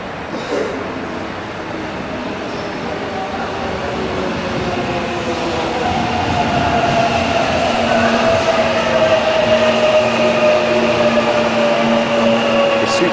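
A subway train pulls into an outdoor platform on a cold January night in the Seoul area, with a loud, steady rumble that builds as it arrives and a rising whine from the wheels and motors.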